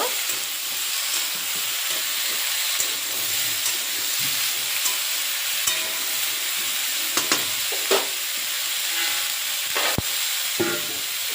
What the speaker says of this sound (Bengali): কিছুক্ষণ নেড়ে চেড়ে একটু কষিয়ে নেব